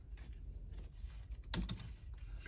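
Typing on a computer keyboard while entering an IV fluid order in a search bar: a brief run of soft, close key clicks with one sharper tap near the end, fairly quiet, no speech.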